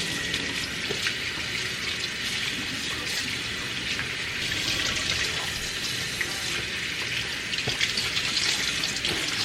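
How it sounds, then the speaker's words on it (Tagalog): Cold tap water runs steadily over raw steak in a sink, a continuous close splashing hiss that lasts throughout with no talk over it. "Iwawash ko siya guys ng very cold water."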